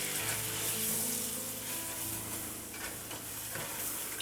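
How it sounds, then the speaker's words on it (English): All-purpose flour stirred into a pan for scalloped potatoes, a soft continuous sizzle and scraping of the spoon, fairly quiet and steady with a low hum underneath. "I'm going to add my all-purpose flour. And just stir that around"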